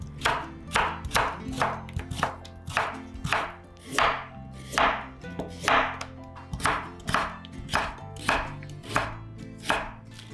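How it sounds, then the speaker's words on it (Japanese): A knife julienning daikon radish and carrot on a cutting board, crisp rhythmic strikes repeating in quick bursts, close and clear with no talking. "大根、人参は細切りします。"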